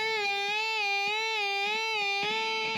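A sustained guitar note wavers slowly and widely a whole step up and down in pitch, a deep vibrato swinging steadily over a few seconds.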